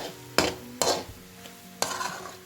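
Grated coconut cooked with sugar in a wok for coconut ladoo: a spatula scrapes and stirs in several distinct strokes, each a sharp scraping burst followed by soft sizzling, close and otherwise quiet.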